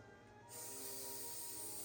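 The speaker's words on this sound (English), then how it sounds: "I'm spraying them on the chair next to the table" A steady hiss of hairspray from an aerosol can starts partway through and keeps going, close and fairly quiet.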